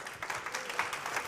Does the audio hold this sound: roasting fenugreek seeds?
no